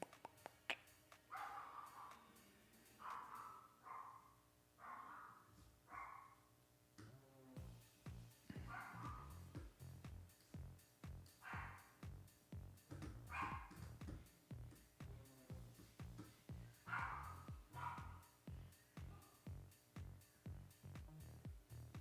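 A dog barks over and over in short, fairly faint bursts, with a steady ticking pulse underneath and no talking.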